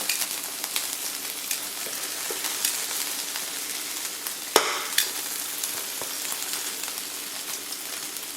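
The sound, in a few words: smash tacos frying in a pan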